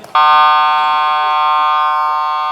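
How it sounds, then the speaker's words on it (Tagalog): A loud, sustained electronic game-ending buzzer blares suddenly at a basketball game after a brief moment of background noise, holding one harsh tone for over two seconds. "Buzzer na."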